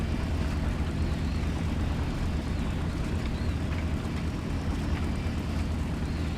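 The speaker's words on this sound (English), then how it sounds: "I have effectively, successfully landed an A-20." Continuous low engine rumble and roar of an A-20 airplane landing in the video game War Thunder, steady and fairly loud, with no clear changes throughout.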